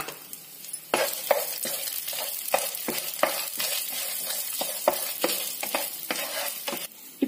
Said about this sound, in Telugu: ఇప్పుడు ఇందులోకి పోపు దినుసులు వేసుకుని ఫ్రై చేసుకోవాలి